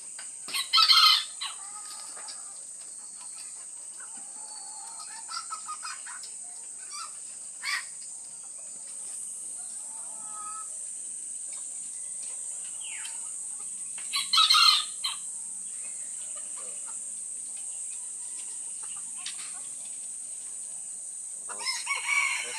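Two young white bantam micro roosters, about three months old, crow in short loud bursts near the start and again midway, with occasional soft clucks over a steady high hiss of background noise.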